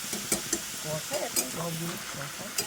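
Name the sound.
cabbage being stir-fried in a pan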